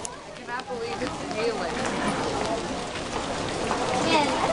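Hail pelting the ground and surfaces at a temple in Kyoto, a dense, steady patter of hard strikes close by, with people's voices talking over it.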